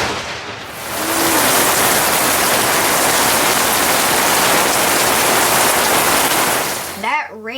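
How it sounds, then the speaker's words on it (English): Sudden heavy rain pouring down in a Houston, Texas backyard, a loud dense steady hiss swelling in and holding throughout, easing at the very end as a brief voice comes in. "That rain came out of nowhere."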